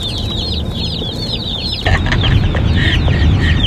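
Many meat chickens cheep and chirp continuously at close range, high repeated peeping calls over a steady background, growing louder partway through.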